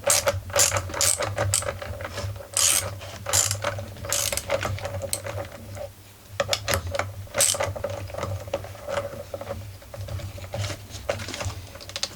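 Ratchet wrench tightening the drum clutch on a Stihl FS51 AVE grass cutter, fast clicking bursts repeated with short pauses, close and steady, no speech.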